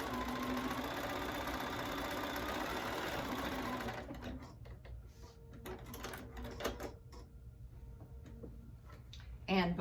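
A sewing machine back stitches a tote bag seam, whirring steadily and loudly for about four seconds, then stopping and giving way to quieter handling clicks and rustles, with a short mechanical burst at the end.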